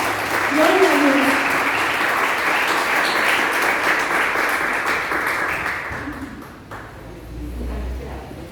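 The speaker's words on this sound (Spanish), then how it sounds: "Recibámosla con un aplauso en esta hora." A church congregation applauds to welcome someone speaker at a women's conference, with steady, full clapping for several seconds that tapers off. A voice talks briefly at the start, and a low hum follows as the clapping dies away.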